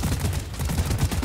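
Rapid bursts of regular weapon fire from the scout class in Deep Rock Galactic, a dense continuous rattle of close, loud shots through the whole moment.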